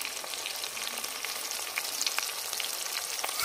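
Tomatoes and onions fry and get stirred in a pan, a steady broadband sizzle running throughout with faint scraping touches from the stirring, no voices.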